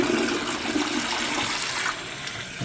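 A toilet flushes after the flapper chain has been adjusted and the fill hose trimmed and refitted, with a steady close rush of water that eases slightly toward the end.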